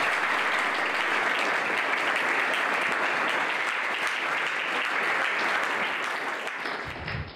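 Steady applause from a school audience at a Sanskarshala event fills the room, dense and continuous throughout, thinning slightly at the very end.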